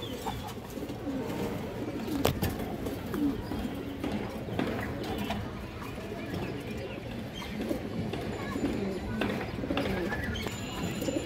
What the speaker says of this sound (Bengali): এটা মাদি কবুতর, সাইজে বড় আছে